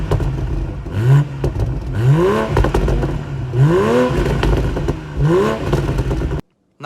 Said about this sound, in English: Exhaust note wise, just listen to what it sounds like here.